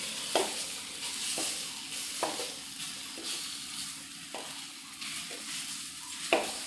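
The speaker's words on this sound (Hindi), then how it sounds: "इसके अंदर खोया डालेंगे, खोए को भूनेंगे।" Khoya roasting in a pan makes a faint, low sizzle, interrupted about once a second by soft scraping strokes of a spoon against the pan, with no voices.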